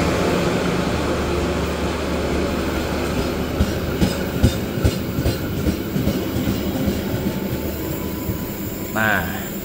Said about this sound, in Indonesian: Nah, kereta api Tawang Alun.